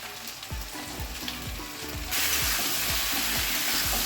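Pointed gourd and ridge gourd hit hot oil in a pan with potatoes, a steady sizzling fry that swells louder midway as the vegetables go in, with soft rhythmic stirring knocks throughout and no talk.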